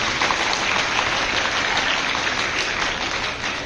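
Loud, continuous clapping from a gathered audience honouring a girl's Bharatanatyam dance performance at a birth anniversary celebration, steady and close throughout.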